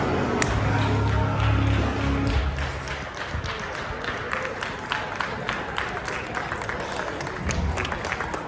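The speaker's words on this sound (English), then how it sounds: "huge round of applause for the Unified Tag Team Champions" A wrestling crowd applauds and claps at a tag team match, the dense clapping loud at first and then thinning into scattered claps and crowd noise, with some talk mixed in.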